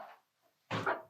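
A dog barks in a short, loud burst of one or two close barks after a brief faint sound, set apart from any talk.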